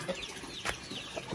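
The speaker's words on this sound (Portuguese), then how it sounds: "O galo aí, as galinhas." Free-roaming chickens and a rooster on a small farm give faint, scattered clucks against a quiet outdoor background, with no talking.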